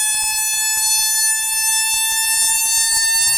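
Mini musical Tesla coil sounding a steady, loud 900 Hz buzzing tone with bright harmonics, held continuously without a break.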